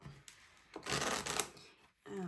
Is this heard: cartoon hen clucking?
no